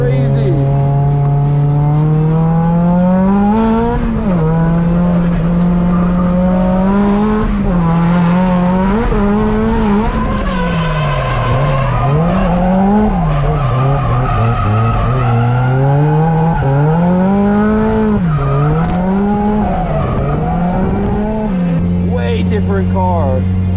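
A car driven hard on an iconic Japanese racetrack, its engine roaring loud and continuous as the revs climb and fall, with tire squeal and skidding under the engine.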